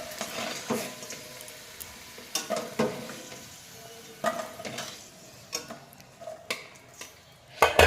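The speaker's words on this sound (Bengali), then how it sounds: "আমি হচ্ছে ওই তেলের মধ্যে আলু ফুলকপিটা ভেজে নিচ্ছি" Potato and cauliflower pieces frying in hot oil in a home kitchen pan, a soft continuous sizzle broken by repeated sharp clacks and scrapes of a utensil stirring against the pan.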